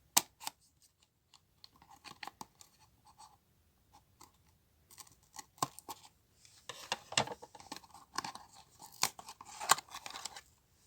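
Scissors snip and crunch through the cardboard of a boxed Bandai Demon Slayer Adverge Motion mini figure set, giving sparse close clicks at first, then a denser run of sharp cuts and rustles, with no talking.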